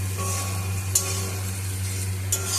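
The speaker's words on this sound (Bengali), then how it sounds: "এবার সব কিছুর সাথে মশলাগুলোকে ভালো করে নাড়াচাড়া করে" Spices with coriander powder being stirred in a pan for a bitter gourd and potato dish, a low steady sizzle with soft scraping and two brief sharper clinks of the spatula.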